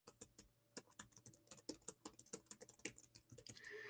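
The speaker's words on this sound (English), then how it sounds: "Let me type that in." Quick, uneven keystrokes patter on a computer keyboard, close and fairly quiet, in short bursts for a few seconds with no talking, ending in a faint rising whoosh.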